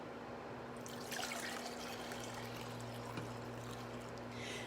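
Blueberry popsicle mix poured steadily from a container, a continuous soft liquid trickle with a low hum underneath, no talking.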